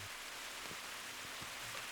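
Heavy rain hisses as a dense, steady wash of noise, with a few faint low thuds underneath and no voices.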